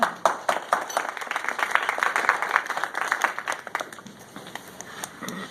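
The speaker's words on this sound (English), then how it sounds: "So let's give Bill Woodman a round of applause" An audience claps for a speaker being introduced at a talk on diabetes and the keto diet: a dense, steady patter of hand claps across the room, strongest early, then thinning and fading toward the end.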